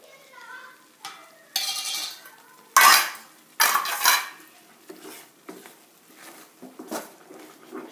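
Cashews stirred in a metal pan while making pineapple halwa, a spoon scraping and clinking against the pan in uneven, sharp strokes with a louder burst of clatter in the middle, close by and with no talk.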